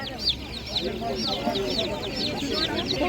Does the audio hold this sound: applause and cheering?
no